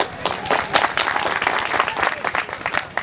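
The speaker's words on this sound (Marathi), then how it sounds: "आपल्या सगळ्यांसाठी मोठ्याने टाळ्या उभ्या" A crowd claps loudly at a village group marriage ceremony, dense uneven applause with a few stronger bursts, close and lively throughout.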